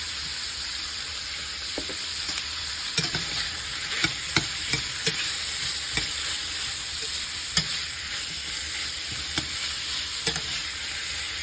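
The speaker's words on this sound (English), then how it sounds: "I will also add my onion. Like I said, we're just going to get a quick cook on these, quick sear." Onion searing in a hot pan as part of a Louisiana red beans and rice dinner, a steady bright sizzle running throughout with occasional light clicks and stirring taps.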